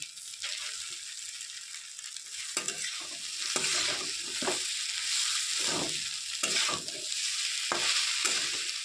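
Roti pieces and fried vegetables are stirred in a pan, with a soft steady sizzle under repeated scraping strokes of the spatula, each stroke a short burst. No talking.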